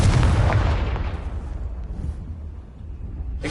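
The Confringo explosive spell in Hogwarts Legacy sounds as a loud, deep blast that rolls off into a long rumbling tail, with another sharp burst starting at the very end.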